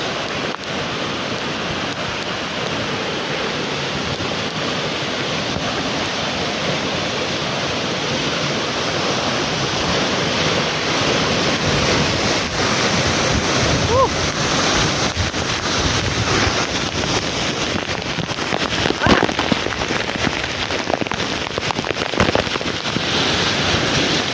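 Bataraw Falls pours in a steady, broadband roar that stays close and constant throughout, with wind buffeting the microphone now and then and no clear voices.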